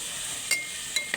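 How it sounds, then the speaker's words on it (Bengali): Soybeans are stir-fried in a pan with a faint, steady sizzle, broken by three quick metallic clinks of a spatula against the pan. "সয়াবিনগুলো দিয়ে আবার একটু ভালো করে কষে নেব।"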